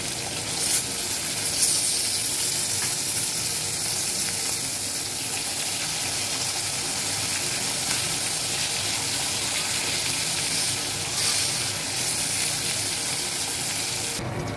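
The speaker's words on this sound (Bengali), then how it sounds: "তো চলো ইলিশ মাছগুলো এখন ভাজা হচ্ছে, হালকা ভেজে দেবো, বেশি ভাজবো না" Pieces of hilsa fish fry lightly in oil with a steady, dense sizzle that runs unbroken throughout, close and moderately loud with occasional slight surges.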